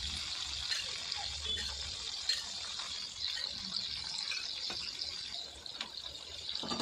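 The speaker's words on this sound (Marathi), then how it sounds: "आता हे हळदीचं पाणी ॲड करूया आणि गॅस थोडा वाढूया." Turmeric water poured into hot oil where Kerala-style banana chips are frying, giving a steady, loud, hissing sizzle with bubbling that carries on throughout.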